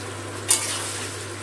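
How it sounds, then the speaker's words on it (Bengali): Sour yogurt and a ground spice mix of turmeric, chili powders, cumin, coriander, salt and sugar sautéing in a pan, giving a steady close-up sizzle and stirring scrape with two brief sharper scrapes of the spoon. "টক দই আর মশলাটা ভালো করে সময় নিয়ে কষাতে হবে"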